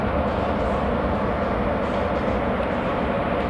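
A goods train hauled by a WAP4 electric locomotive in Train Simulator Classic, a loud, continuous rolling rumble with a steady grinding rail hiss throughout and no voices.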